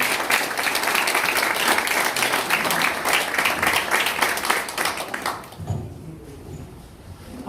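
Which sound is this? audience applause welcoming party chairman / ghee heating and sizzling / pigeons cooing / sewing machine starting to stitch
audience applause welcoming party chairman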